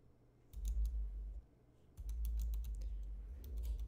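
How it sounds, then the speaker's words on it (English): Rapid typing on a clicky Razer mechanical keyboard comes in two bursts of crisp, close key clicks with a low rumble underneath, separated by a brief pause. "I have one of those Razer keyboards, and it does that little clicky noise."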